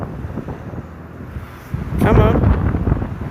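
Strong coastal wind buffets the microphone at Folkestone, Kent, rumbling low and swelling into a louder gust partway through, with a brief spoken phrase.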